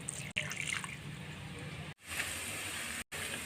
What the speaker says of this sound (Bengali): আমি অল্প জলে মিক্স করে নেব মশলাগুলো